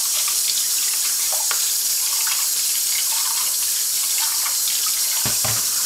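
Cold water runs steadily from a kitchen tap while Dominican breakfast is being made, a continuous close splashing hiss with a few brief knocks near the end.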